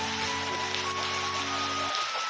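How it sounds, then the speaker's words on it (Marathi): Steady rain hisses down on farmland during sunshine in a dense, even wash, with a low humming drone underneath that cuts out near the end. "उन्हात पाऊस चालू आहे"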